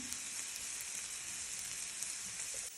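Carrots frying with garlic in a pan, a steady dense sizzle close by that holds even throughout with no talking.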